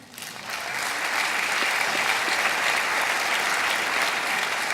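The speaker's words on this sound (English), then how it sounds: "Give yourself a round of applause" Steady, dense applause from a graduating class at a 2018 commencement ceremony, swelling quickly after a brief quiet start and holding loud and even to the end.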